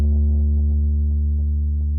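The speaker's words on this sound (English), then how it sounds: "I'm using this analog BD sine, and then I have a little bit of distortion" Sustained sine-wave bass tone from an analog BD sine patch in the Serum synth with light distortion, used in an alternative rock ballad, a steady deep hum slowly decaying, heard alone.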